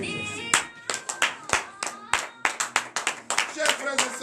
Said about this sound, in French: Veuillez vous lever et donner de vive acclamation à notre Seigneur Jésus